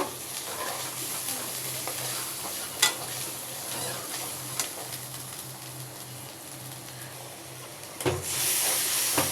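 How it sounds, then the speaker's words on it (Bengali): Quail coated in a ground paste of ginger, garlic, cumin and coriander with turmeric and chili sizzles in a pan, a continuous close frying hiss broken by occasional stirring scrapes and a louder burst near the end. "পানি দিচ্ছি কষায়া ভালো করে মশলাটা"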